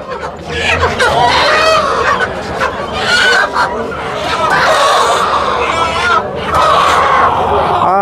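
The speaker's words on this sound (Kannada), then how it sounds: "ಈಗ ಇದ್ರ ಮೇಲೆ ತಿರ್ಗಾ ಕೋಳಿ ಹಾಕ್ತಾರೆ ತೂಕಕ್ಕೆ" Native country chickens cluck and squawk loudly and continuously while being weighed on a scale, with people talking over the flock throughout.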